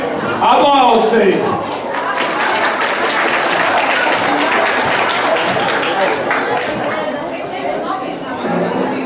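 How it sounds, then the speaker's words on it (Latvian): Applause from a crowd at a school aerobics day event after a team introduction, steady dense clapping lasting throughout, with cheering and chatter mixed in. "Aplausi!"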